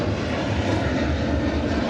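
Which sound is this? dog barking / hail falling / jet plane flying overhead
jet plane flying overhead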